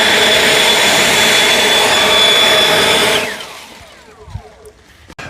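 An EGO Power+ LB7650 cordless leaf blower on turbo boost with a tapered nozzle, roaring with a loud, steady high-pitched whine that winds down after about three seconds into quieter rustles and knocks.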